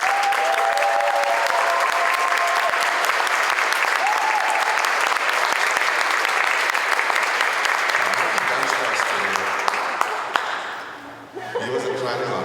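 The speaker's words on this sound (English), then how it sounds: "Let's give her a huge round of applause." An audience claps loudly for Jaedyn at a proclamation ceremony honoring a hula school and Miss Aloha Hula, dense steady applause with a few chuckles and murmurs, thinning out near the end.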